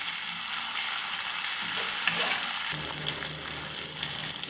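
Tomatoes added to onions and curry leaves frying in a pan for a Tirunelveli-style paruppu urundai kuzhambu, producing a steady close sizzle that thickens partway through, with faint stirring and no talking.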